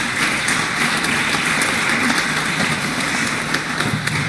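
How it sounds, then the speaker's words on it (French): An audience applauds the winning companies at an environmental performance awards ceremony, a steady, dense wash of clapping that holds at an even level for the whole stretch. "Alors vous allez, vous pouvez les applaudir."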